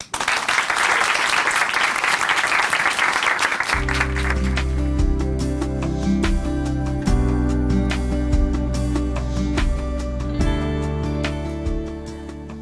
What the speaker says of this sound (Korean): 춘천 한마음교회 박선희 자매님 박수로 모십니다